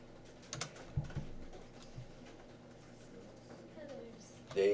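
Typing on a computer keyboard in a classroom programming session, light scattered key clicks under a speaking voice, quiet and fairly close.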